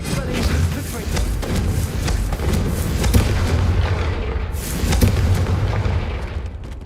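Confringo blasting spell going off in a Hogwarts wizarding game, a sustained rumbling barrage of booming explosions with repeated heavy thumps, loud and close throughout.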